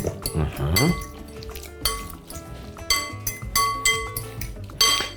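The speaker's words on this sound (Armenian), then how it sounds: "Ես մեկ անգամ խառնենք, թող հավասար լայմի հյութը տարածվի" A spoon stirs a taco dish dressed with lime juice, knocking against the bowl in a series of bright clinks and scrapes. The clinks come in irregular bursts while a voice talks over them.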